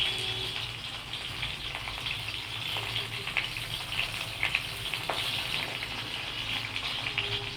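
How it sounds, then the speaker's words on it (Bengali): Pieces of food frying in hot white oil give a dense, steady, close sizzle with a bubbling, watery texture and occasional louder crackles. "তেল গরম হয়ে এলো, একে একে সবগুলি দিয়ে দেব।"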